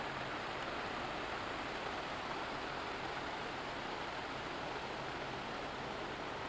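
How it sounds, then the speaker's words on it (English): A loud mountain stream runs through a Colorado valley, a steady, dense rushing wash of water that stays constant and close, with no voices or other sounds over it. "there is a really loud stream going by."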